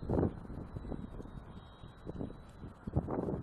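Strong high wind buffets the microphone in gusty low rumbles during an RC plane maiden flight of a Durafly Tundra, with a faint thin engine whine running through the background.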